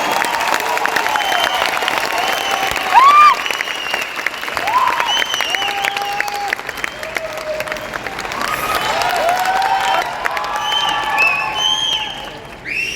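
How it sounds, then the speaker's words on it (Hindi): Crowd applause at an event in Patna, sustained loud clapping from a large audience for over ten seconds, with whistles and scattered cheers rising over the steady clatter. "ऐसी तालियां बजनी चाहिए कि पूरा पटना में आवाज चली जाए"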